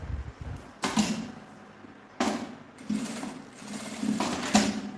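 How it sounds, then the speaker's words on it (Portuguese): A sewing machine stitches the fabric lining of a mini vanity case in several short bursts of rapid whirring needle motion, separated by brief pauses, close and fairly loud, with no talking. "tô costurando onde eu cortei, né? Não ficar o forro solto"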